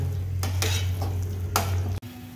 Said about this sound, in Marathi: तर आपला आता मसाला परततोय